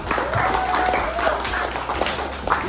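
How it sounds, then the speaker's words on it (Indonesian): A fifth-grade classroom claps for a student, a short burst of brisk hand clapping from the children, close and fairly loud, with a few faint voices mixed in. "Tepuk tangan untuk Arkan dong"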